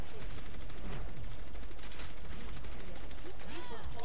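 Overwatch gunfire in a chaotic match: steady rattling automatic shots and mechanical clatter, loud and continuous throughout the short burst of action.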